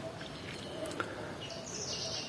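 A songbird chirps and trills faintly in the distance over a soft outdoor hiss, with a brief whistled phrase partway through.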